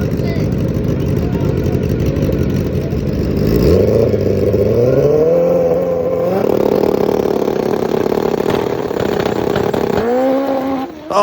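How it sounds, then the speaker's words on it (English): A top fuel Harley drag motorcycle does a burnout on the line, a loud sustained roaring engine with rising and falling pitch sweeps, then a sudden cut and a final blip. "only Duarupa can do a burnout on the line"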